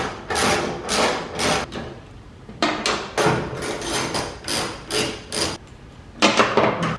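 A ratchet wrench with a 10 mm socket works the bolts of a vehicle taillight, giving repeated bursts of metallic clicking and clattering in an irregular rhythm, close up with no talking.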